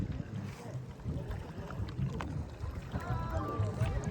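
A boat moves across Nakki Lake at Mount Abu, giving a steady wash of water and wind noise close by, with no clear breaks.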